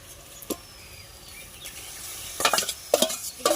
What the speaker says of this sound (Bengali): চিনির জলটা হয়ে গেছে সিরাটা বানানো চাল কুমড়োগুলো দিয়ে দেবো